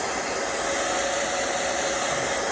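A hair dryer blows steadily at close range to force-dry a watercolor painting, a constant loud whooshing whir with no talk.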